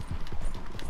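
Horse hooves clip-clopping in Red Dead Redemption 2, a quick, steady run of loud, close hoofbeats with no talk.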